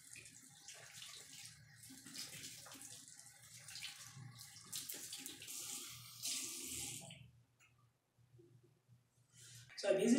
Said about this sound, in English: I'll go ahead and wash my face now.